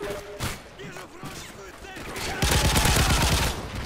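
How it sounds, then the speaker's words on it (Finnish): Gunfire in the video game Modern Warfare 3: several sharp shots early, then a dense, loud burst of rapid automatic fire in the second half, with someone talking over parts of it. "Niin helvetin kaukaa ampuu mut."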